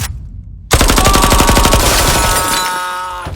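Rapid burst of automatic gunfire erupts after a brief quiet, loud and sustained for nearly three seconds with dense, rattling shots in a dramatic action scene.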